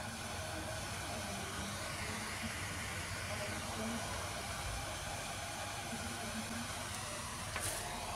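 A small 5V cooling fan on a metal heat sink for a 1/10 RC car whirs with a faint, steady airy hiss and a low hum, continuous and fairly quiet.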